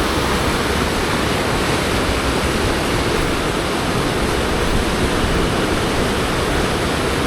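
Loud, constant broadband rush of fast-flowing flood water in a stream near a bridge, dense and unbroken throughout, like a torrent heard up close.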